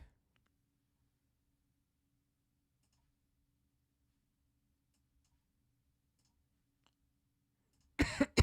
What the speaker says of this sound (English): I forgot to turn off the mic when I coughed.